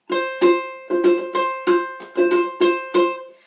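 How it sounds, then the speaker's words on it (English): Eight muted, percussive ukulele strums, the strings damped by a finger laid lightly across them, in a steady rhythm, each chord clipped short with a choppy attack, played up close with no voices. "just lay it across the strings lightly so that it gets to be this sound"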